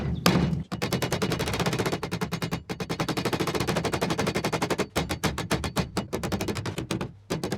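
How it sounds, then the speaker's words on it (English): A hammer beats rapidly and repeatedly on an aluminium body panel of a Series Land Rover under restoration, making dense bursts of sharp metallic blows with a few brief pauses, close and loud with no talking. "I've got almost no experience of thumping aluminium"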